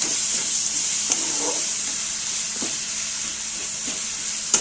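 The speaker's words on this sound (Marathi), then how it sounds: "याच्यात वाटणात आहे ना, पुदिना वाटलेला आहे. टेस्ट येते. मस्त मिक्स करून घ्यायचे." A spoon stirs a curry mixture containing ground mint paste in a hot pan, giving a steady close sizzle and hiss broken by a few soft scraping strokes, with no voices.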